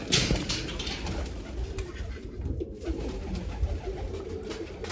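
Pigeons coo softly nearby, with soft rolling calls repeating over a low ambient background.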